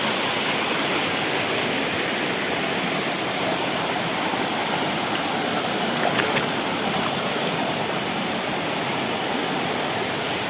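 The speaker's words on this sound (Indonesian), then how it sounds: "Kita menuju curug atau air terjun, waterfall ya." A steady, dense rush of falling water from a waterfall (curug), loud and continuous, with no voices.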